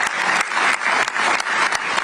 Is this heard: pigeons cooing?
no